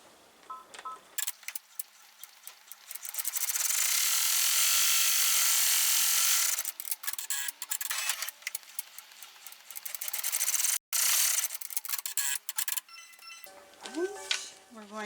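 An embroidery machine stitches a tack-down placement line in rapid, loud mechanical bursts, pausing and restarting, with brief talk at the start and end.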